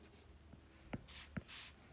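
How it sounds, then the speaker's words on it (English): Pen or marker writing a math expression for a complex-number division, heard as a couple of short scratchy strokes and taps, faint and close, without talk. "let me write it down first"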